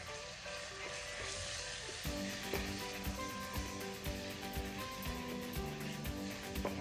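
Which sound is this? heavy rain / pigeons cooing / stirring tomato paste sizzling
stirring tomato paste sizzling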